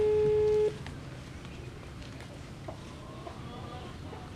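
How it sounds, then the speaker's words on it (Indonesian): A steady telephone tone sounds loud and alone for under a second, then cuts off, leaving a quieter stretch of faint room noise and soft background voices in a Balinese comedy scene. "Telepon."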